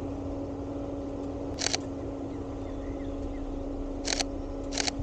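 Shutter clicks from a Sony camera fitted with a 200-600 telephoto lens, shooting outdoors in fog on a Wisconsin farm near tractors; three short bursts of rapid clicks over a steady low hum.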